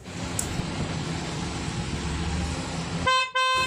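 A car horn blares continuously in close range during a home horn repair on a car with one of two horns failed, then cuts out and sounds again in short bursts.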